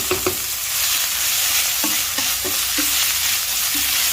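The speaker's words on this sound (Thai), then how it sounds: "นำเครื่อง ที่เราปั่นหรือตำทั้งหมดลงไปผัดกับน้ำมัน ผัดให้หอม" Blended spice paste stir-fried in hot oil for a Thai sauce to pour over crispy pork, giving a steady loud sizzle with intermittent scrapes and knocks of a spatula in the pan. No one talks.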